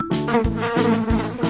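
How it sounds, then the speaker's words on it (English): Loud, steady insect buzzing of a bee, a rich harmonic drone that pulses in strength every half second or so, with a few brief low thumps underneath and no voices. "It's a bee."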